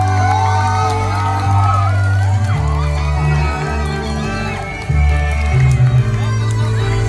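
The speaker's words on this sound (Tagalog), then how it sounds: "isang masigabong palakpakan na may kasamang hiyaw" A crowd cheers and whoops over loud music with a heavy bass beat, voices shouting together in a busy indoor space at an 18th birthday debut party.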